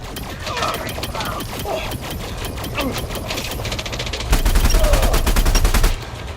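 Sustained automatic gunfire rattles in the space combat game Elite: Dangerous, with rapid repeated shots that grow louder and denser near the end and no pause between bursts.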